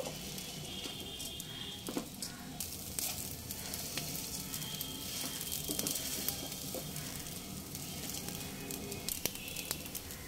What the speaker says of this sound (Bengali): এবার হালকা হাতে নেড়ে চেড়ে লো ফ্লেমে চালটাকে একটু ভেজে নেব